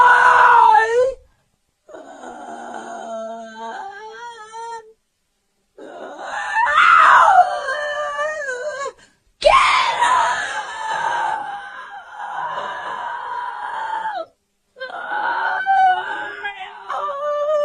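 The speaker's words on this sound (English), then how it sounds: "A loud scream suddenly breaks the silence." Loud, drawn-out human screams and wailing moans picked up by a home security camera, coming in several long bursts separated by short silences, harsh and distressed, with no other sound around them.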